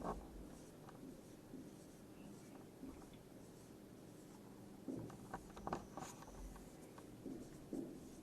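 A matrix example being written out by hand on paper, as soft, close scratching strokes of a pen or pencil arriving in irregular bursts, very quiet.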